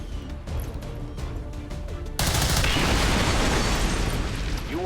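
A gas tank explodes in the video game XCOM 2, a sudden loud blast that cuts in and then roars on as a dense, sustained rumble under game noise.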